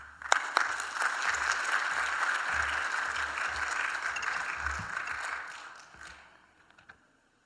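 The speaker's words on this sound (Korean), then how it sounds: "목사님 나오실 때 큰 박수로 환영하겠습니다" A church congregation applauds as the pastor comes forward to preach, a steady wash of clapping at moderate distance that holds for about five seconds and then fades out, with a few sharper claps near the start.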